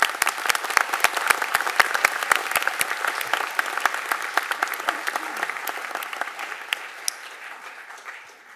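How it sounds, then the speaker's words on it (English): Family and friends applauding students at a university pharmacy white coat ceremony, with close, sharp individual claps in a large crowd that gradually thins and fades out. "please join me in giving these students a round of applause for reaching this"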